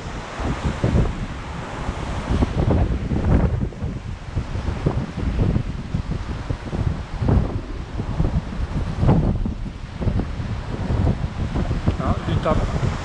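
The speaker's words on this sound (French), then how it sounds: "du vent, hein. J'ai du mal même à tenir la bannière tendue là." Strong wind sweeps across a rocky seashore during rockfishing, buffeting the microphone with heavy, continuous gusts over the wash of surf.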